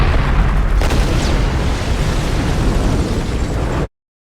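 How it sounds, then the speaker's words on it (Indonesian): A bomb detonates in a film scene, a loud, sustained roar of blast and debris rumbling steadily for about four seconds before cutting off abruptly. "Dan dia membiarkan bom itu meledak dan membunuh si Alice."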